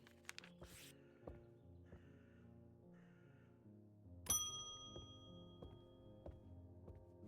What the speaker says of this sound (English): I didn't mean to ring the bell again.